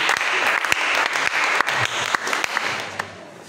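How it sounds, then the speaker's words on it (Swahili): Applause fills a church leaders' seminar hall, a steady wash of many hands clapping with sharper individual claps popping out. It stays loud throughout and tapers slightly at the end, with no talk over it. "Makofi ya Bwana."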